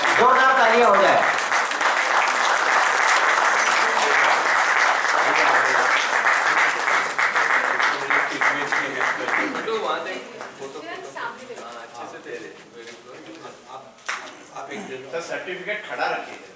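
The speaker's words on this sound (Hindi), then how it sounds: "जोरदार तालियां हो जाए।" An audience at the Zero Mile Icon Award 2024 function bursts into loud, steady applause that fades after several seconds, with people talking as it dies down.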